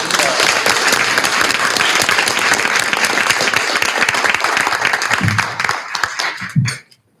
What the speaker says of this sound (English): give our principals a round of applause